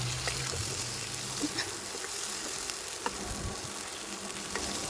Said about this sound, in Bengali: এবার আমি এটার মধ্যে লেগ পিসগুলি দিয়ে দেবো